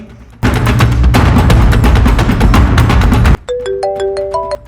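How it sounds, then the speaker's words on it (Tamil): A phone rings with a loud, dense burst of noisy sound, then a clear electronic ringtone melody of bright, stepped notes repeating near and loud, with no voices. "யார் ஃபோன் பண்றா"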